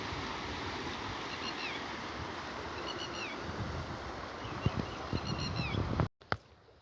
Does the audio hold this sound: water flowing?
yes